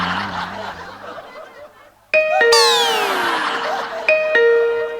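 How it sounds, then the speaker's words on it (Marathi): A doorbell chimes loudly twice in a Marathi comedy sketch, first with a sharp two-tone ding-dong and then a second ring a couple of seconds later, after a stretch of quieter crowd murmur and chuckling. "ऐकलीस बेल? चल निघ आता."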